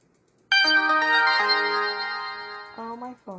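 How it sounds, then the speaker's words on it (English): A mobile phone ringtone plays a bright, melodic tune of sustained tones for about three seconds, loud and clear with no talking over it. "Oh, my phone is singing."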